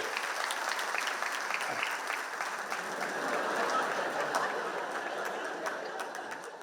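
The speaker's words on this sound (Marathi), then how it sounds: "रसिको हो, जोरदार टाळ्या श्री नागराज मंजुळे" An audience at a Marathi poetry gathering applauds to welcome Nagraj Manjule, with dense, steady clapping and a faint crowd murmur throughout.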